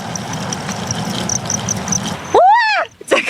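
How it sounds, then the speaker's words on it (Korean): Crickets chirp on a cricket farm, a faint high steady trill over low rumbling background, followed by talking and exclamations near the end. "이 봄에 귀뚜라미 소리가 어디선가 들려오는데, 저기서 계속 들리거든요?"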